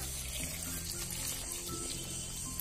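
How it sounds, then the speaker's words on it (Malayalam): Water poured into a pot of Kerala-style pulinkari curry, a steady close splashing stream lasting throughout with no talk. "എന്നിട്ട് കുറച്ച് വെള്ളം ഒഴിക്കുക."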